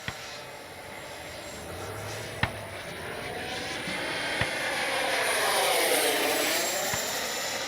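A Freewing F-5 Tiger II RC model jet flies overhead outdoors, a steady whooshing electric-ducted-fan whine that swells and fades slightly as it passes, with a few faint clicks and no speech.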